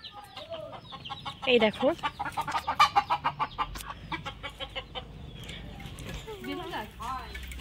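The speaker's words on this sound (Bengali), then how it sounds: "এখানে অনেক মুরগির বাচ্চা আছে, ছোট ছোট" Chickens and small chicks cluck and chirp close by in a rapid run of pecking calls, with brief talk over them.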